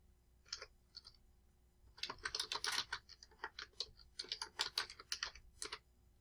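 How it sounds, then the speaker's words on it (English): Quiet, close typing on a computer keyboard: a few scattered keystrokes, then dense irregular runs of clicks with brief pauses. "just type that in"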